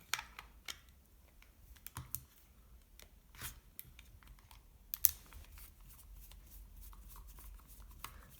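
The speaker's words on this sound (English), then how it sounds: "using a medium-sized Phillips screwdriver, remove these two screws." A medium Phillips screwdriver removing two screws from a Vauxhall Vectra door panel, giving faint, scattered small clicks and scraping ticks at close range, with quiet handling noise and no speech.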